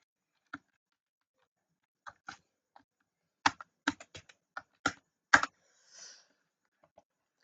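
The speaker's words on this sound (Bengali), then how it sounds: "সার্চ ইঞ্জিনে টাইপ করব গেমিং লোগো।" A computer keyboard tapped to type a short search phrase, a sparse scattering of about a dozen crisp isolated keystrokes with brief gaps, close and quiet in an otherwise silent room.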